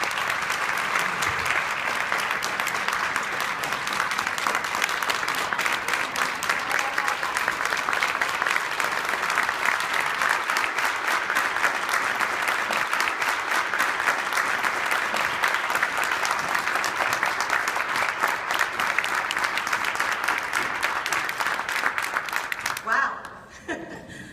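Sustained, dense audience applause welcoming an award recipient to the stage at an awards event, steady and loud for over twenty seconds before tapering off abruptly at the end.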